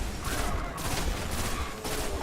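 Super ability energy wave fired in the game Destiny: The Taken King, a dense, sustained burst of blasting energy with crackling gunfire-like texture lasting about two seconds, loud and steady with no talk.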